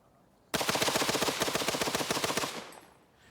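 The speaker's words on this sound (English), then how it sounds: "The Maxim sprayed a wall of fire that cut down everything in its path." A Maxim machine gun fires one sustained burst of about two seconds, a rapid, evenly spaced hammering of shots that starts abruptly, stays loud and close, then cuts off into a short fading echo.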